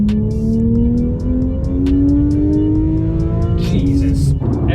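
Porsche 911 GT3 fitted with a Fabspeed exhaust, heard from inside while driving: a loud, steady engine note climbing gradually in pitch, a brief gear change near the end, a voice speaking over it.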